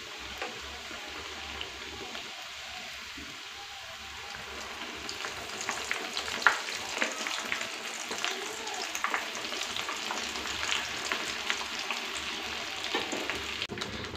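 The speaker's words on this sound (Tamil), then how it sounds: "இப்போ பாருங்கள் இது நல்லா 2 பக்கம் ஃப்ரை ஆகிடுச்சு" Chicken lollipops deep-frying in oil after being turned over, a steady fine crackling sizzle heard close, growing busier and more spattery in the second half.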